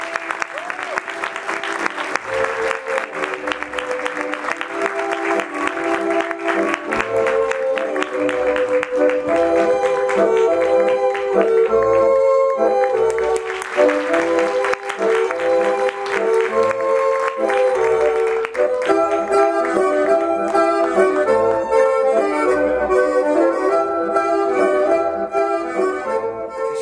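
At the 15th Savaş Dinçel theatre awards, the best director award win for Volkan Sarıöz is greeted with applause that sits under loud, continuous music for nearly half a minute.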